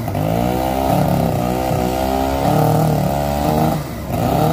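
A vintage Mercury Disston twin-cylinder chainsaw with a scratcher chain runs loud and close at a show, its engine revving up and down in strong surges with brief dips between.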